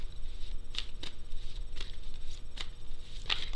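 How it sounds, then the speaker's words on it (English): Oracle cards are shuffled by hand in a series of soft, irregular riffles and taps. The sound is fairly close but quiet, with no speech, over a faint steady hum. "I'm shuffling as I speak."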